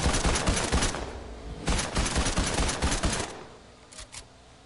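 Rapid automatic gunfire in a video game, coming in loud clustered bursts with short gaps and a couple of faint final shots as it trails off.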